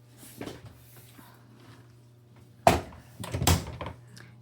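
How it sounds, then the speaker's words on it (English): A washing machine door being shut before a tub-clean cycle: two solid, close thumps a moment apart after a stretch of quiet background hum. "close the door"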